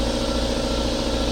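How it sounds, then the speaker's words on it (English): An air compressor in a garage runs with a steady, loud mechanical drone and an even low throb, holding constant for the whole moment. "Yeah, the air compressor kicks on in the background."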